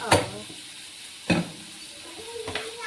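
Bitter gourd frying in oil in a pan, with a steady soft sizzle under three sharp scraping strokes of a stirring spoon, close by.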